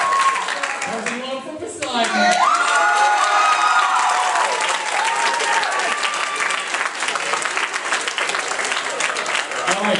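Steady applause from a large audience at a 2015 school talent show fills the room, with scattered cheers and some voices over the clapping.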